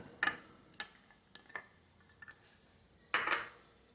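Cooked soya chunks seasoned with salt and pepper being dropped into a bowl, a few sharp, separate clinks and taps against the bowl with quiet gaps between, close and fairly faint.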